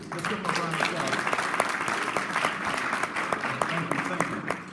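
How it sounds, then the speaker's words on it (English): An audience at a Democratic Party organization membership meeting claps, a few seconds of scattered, moderately loud applause with a voice talking over it. "Let's give him a round of applause."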